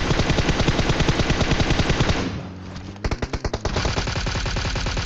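Rapid automatic gunfire in the mobile battle-royale game PUBG Mobile: dense, loud bursts of evenly spaced shots, a brief lull, then a short sharper volley and sustained firing again, no voices.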